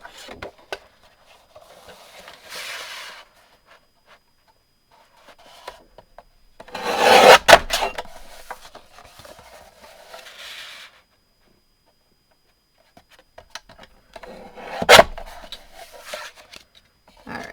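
Cardstock trimmed on a paper trimmer for a Gina K Designs heart frame card, a few separate rasping, rubbing strokes of the blade sliding along with quiet pauses between, close and moderately loud, no voices.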